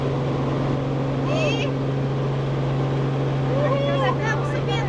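Steady loud cabin drone inside a helicopter as it accelerates and climbs, with a strong low hum and rotor noise throughout and brief voices or chirps rising above it.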